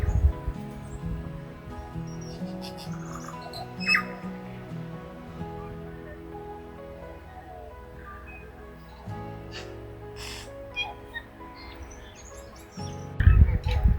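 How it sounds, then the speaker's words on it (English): Clear, varied tui calls ring out from nearby trees, with liquid notes, chirps and the odd squawk over a low background rumble. "this beautiful sound you can hear in the background are tuis singing"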